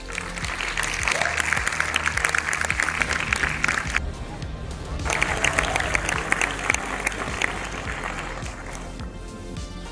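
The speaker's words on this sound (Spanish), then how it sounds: "Un aplaudiment per Alexandre Philippe" Sustained applause from a large audience at a film festival screening in Sitges, a dense steady roar of clapping that dips briefly and then swells again.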